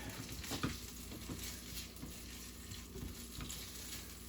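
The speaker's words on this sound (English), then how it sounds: "Hear it already starting to sizzle?" Steady, soft sizzling of food frying in a pan, a continuous crackly hiss with faint clinks, no voices.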